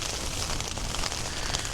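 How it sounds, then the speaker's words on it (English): Heavy rain patters on the fly sheet of a Nordisk Oppland tent during stormy wild camping, a dense, continuous close-up drumming with no voices. "Being in a tent when there's rain on the fly sheet."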